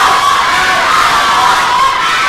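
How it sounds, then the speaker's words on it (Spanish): At a lucha libre wrestling event in Toluca, a dense crowd roars and shouts in unison, a loud sustained wall of voices with no pauses. "el grito por parte de la gente de Toluca"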